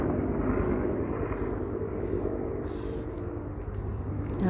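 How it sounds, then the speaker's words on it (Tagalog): A helicopter flies overhead in Japan, heard as a steady, moderately loud engine drone that fills the whole stretch and fades slightly toward the end, with no talking. "Ayun na naman yung helicopter."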